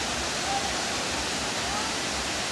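A waterfall at a spring resort pours in a steady, loud, broadband rush with no breaks, close by.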